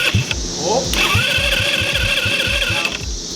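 Metruckus truck engine on its first start, cranking with a rhythmic starter chug that catches into a rough idle, steady pulsing throb with a whine, close and fairly loud.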